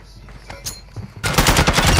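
Video game gunfire in an extraction shooter set in Al Mazra: quiet background noise, then a loud, dense burst of rapid automatic fire erupts about halfway through and keeps rattling close by until the end.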